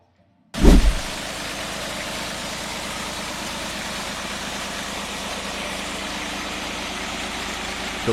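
Lister JP3 three-cylinder British stationary diesel engine starting with a sharp burst, then running steadily with an even, close, low chugging rumble and no talking.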